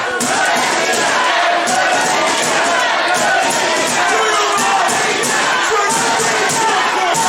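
A wrestling crowd at Rushden Leisure Centre cheering and shouting loudly and continuously at a live event, a dense roar of voices with chanting pulses throughout.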